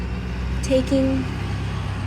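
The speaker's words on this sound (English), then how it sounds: "loud truck" A truck rumbles past a sunny apartment balcony, a steady low engine drone with traffic noise throughout, while a person speaks briefly over it.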